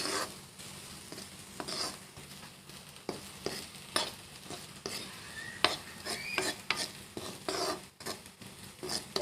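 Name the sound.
frying bhaji with an egg in a pan, stirring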